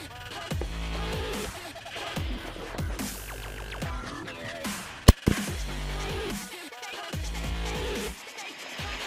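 A real-life flare gun fires once, giving one sharp, loud pop partway through. A quick echo-like crack follows it, heard over steady background music.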